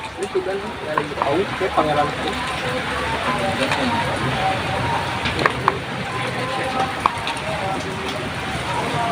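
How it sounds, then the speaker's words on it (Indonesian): Heavy rain falls outside while a meal is cooked indoors, heard as a dense, steady hiss with scattered sharp patters throughout. "Di luar hujan bener-bener lumayan iya gede."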